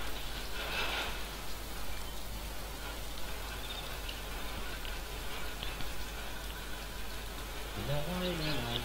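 Rain falls steadily in the survival game DayZ, a constant close hiss of drops throughout, with a brief voice near the end.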